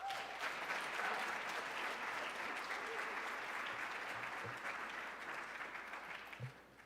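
An audience at a speaker series event applauds to welcome author Amy Bass, steady broad clapping filling the room for several seconds before tapering off near the end.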